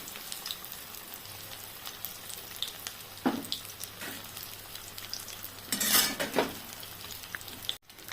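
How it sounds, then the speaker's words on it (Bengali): Paneer pieces, three at a time, fry quietly in a pan with a soft, low steady sizzle and a couple of brief louder scraping bursts near the end, with no talking. "মনে করে আমি 3টে করে ভাজছি।"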